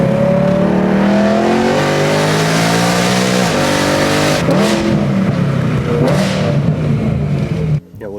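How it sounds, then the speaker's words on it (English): A BMW E9x M3's V8 engine revs loudly up and down through several rising and falling sweeps, close by, ending in a brief drop-off. "The sound of this car"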